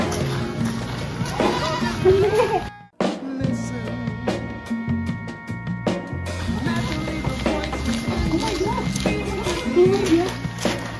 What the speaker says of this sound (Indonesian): kita mau melihat kambing yang ada di belakang sana